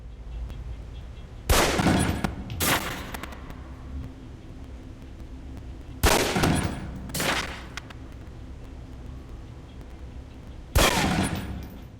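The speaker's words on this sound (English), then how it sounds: "Equip the pistol, then aim down range and take shots at the target." Pistol shots at a target in the video game Alpha Protocol ring out in three groups of loud, sharp reports, mostly pairs spaced a second apart, each followed by a short echoing tail over a low steady background hum.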